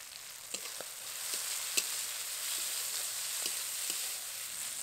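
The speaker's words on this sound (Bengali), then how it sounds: "সব কিছুকে ভালো করে নেড়ে চেড়ে নিয়েছি, আর পালং শাকটা একটু ভাজা ভাজা হয়ে এসেছে।" Chopped raw spinach and tomato sizzle steadily in a hot pan, with soft scraping clicks from stirring scattered through a continuous crackling hiss; no voices.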